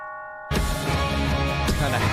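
Bright tubular bells ring out in the chorus of a Christmas worship song, a sustained full-band passage that opens with a sudden loud entry after a quiet moment and carries on dense and steady.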